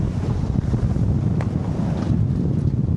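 Strong wind buffets the microphone aboard a Nautitech 40 catamaran under sail with a reefed main. A constant loud roar of gusts mixes with rushing water and never lets up.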